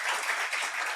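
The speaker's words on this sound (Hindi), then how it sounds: "हमारी worship team के लिए ताली बजाएंगे" Church congregation at a Hindi sermon service claps for the worship team, a brief, dense, even burst of applause at moderate volume with no talk over it.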